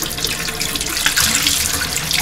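Tap water runs steadily while a STCK iT adhesive mount is rinsed under it, a close, continuous splashing hiss with no speech.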